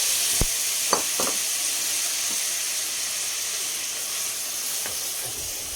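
Onions fry in a mix of oil and butter, giving an even, hissing sizzle at close range. A few sharp taps and clicks from a utensil sound early on, then the sizzle carries on alone.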